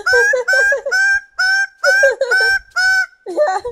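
A goose-like bird honks loudly and repeatedly at close range, about eight nasal calls in an uneven rhythm with short gaps between them.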